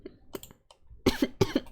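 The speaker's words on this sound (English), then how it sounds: "I'm coughing my lungs out" A few dry coughs and throat-clearing sounds from one person close to the microphone, with two louder, harsher coughs near the end.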